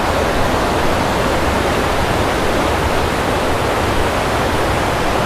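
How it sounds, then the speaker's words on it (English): Loud, constant roar of the fast-rushing Laurel River in a narrowing valley fills everything, dense and unbroken like a torrent surging close by. "It's an immense amount of water that's being moved through here."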